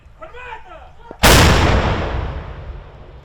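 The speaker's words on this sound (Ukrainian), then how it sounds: "У цей час своїй піхоті допомагає артилерія." Artillery fire near Bakhmut: a single loud, close boom erupts after a moment of faint voices, then rolls and rumbles away slowly over the following seconds.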